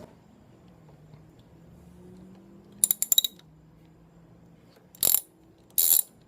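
A hand ratchet with a 5mm socket adapter clicks in three short, crisp bursts while removing short screws from a Yamaha FJR 1300 motorcycle during a throttle body sync. The setting is quiet with a low background hum.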